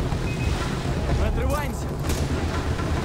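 A motorboat engine drones steadily in Far Cry 3, a continuous low rumble blended with wind and water noise, with voices speaking over it.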